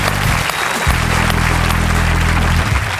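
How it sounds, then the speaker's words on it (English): A television studio audience breaks into loud, dense applause, close and continuous for a few seconds, with a low musical drone running underneath and no voices. "Wild applause. Rapturous applause."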